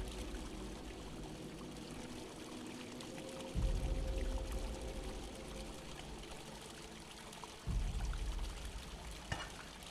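Water pours from a goat-head spigot in the video game Mundaun as a steady, faint trickling stream, with two louder splashing surges partway through and a quiet click near the end.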